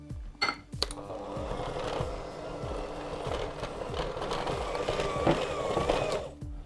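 An electric mixer churns butter and icing sugar for a raspberry and white chocolate loaf cake, with a steady motor whir and regular rhythmic knocking of the beaters against the bowl, close by and without talk.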